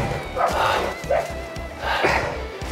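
A dog barks several times in quick irregular bursts, close and moderately loud, outdoors beside an old Audi Ur Quattro Turbo barn find.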